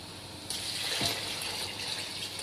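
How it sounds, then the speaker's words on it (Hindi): Water poured from a glass into a pot of fried vegetables and rice for vegetable pulao, a steady splashing gush starting partway in and continuing close and clear with no talk. "अब हम इसमें पानी ऐड करेंगे।"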